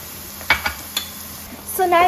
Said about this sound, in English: so now I'm mixing everything together